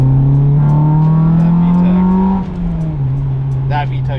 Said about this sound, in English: That VTEC sounds so nice.